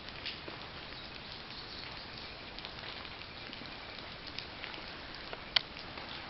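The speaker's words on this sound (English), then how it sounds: "I don't hear nothing but the raindrops and the birds." Soft, steady patter of raindrops falling through quiet woods, a faint continuous hiss with a few brief louder drips, no voices.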